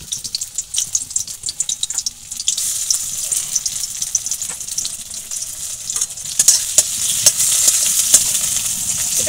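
Chopped onion hits hot oil in a wok, and a bright, loud hiss of frying swells after a quieter start and then keeps crackling with occasional sharp pops.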